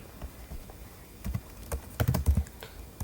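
Code is typed on a computer keyboard in short, irregular bursts of close, crisp key clicks, with quiet pauses between the bursts and no speech.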